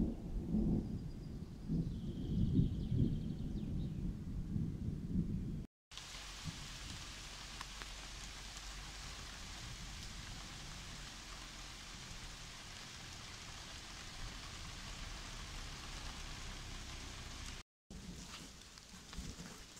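Rain from a thunderstorm pours down outdoors in a forest area, a continuous broad hiss that is fairly soft and broken by two brief dropouts, with a rougher, rumbling stretch in the first few seconds.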